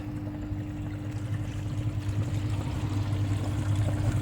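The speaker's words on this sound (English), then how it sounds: "put a little bit more water into the tank." Water runs steadily into a pond filter tank, a constant rushing trickle under a low pump hum, growing slightly louder toward the end with no speech.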